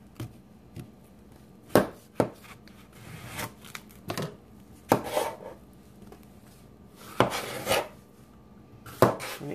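Knife cutting a cantaloupe into smaller sections on a cutting board, irregular sharp chops and knocks spaced a second or so apart, close by and without talk.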